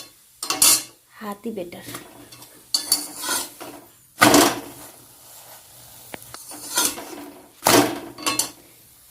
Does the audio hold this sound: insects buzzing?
no